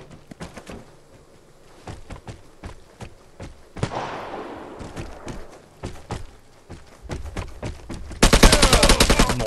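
Gunfire in the video game Vigor: a rapid series of sharp shots and bursts, close and loud, with a heavier sustained volley at the end.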